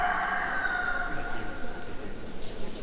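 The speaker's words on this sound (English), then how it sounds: "As the rooster is shouting" A rooster crows at Batu Caves, one drawn-out call fading over about two seconds, moderately near over light background noise.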